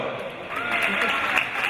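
Applause from a crowd at a handball club's team presentation, a steady dense patter of clapping with voices mixed in beneath it.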